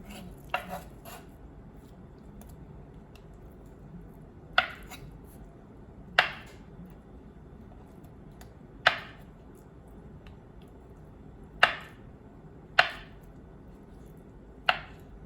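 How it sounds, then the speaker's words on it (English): A knife chops through a block of tofu into cubes on a cutting board, making sharp, isolated knocks at an irregular slow pace, about seven strikes, close and clear with no talking. "And then I will cut it into cube shapes."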